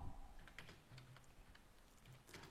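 Brisk, close clicking of computer keyboard keys as text is typed into a Word document, a quick uneven run of taps.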